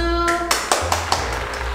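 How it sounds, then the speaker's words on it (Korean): A few sharp, scattered claps ring out after a sustained tone cuts off, close and brief, over a low steady hum. "모두 박수."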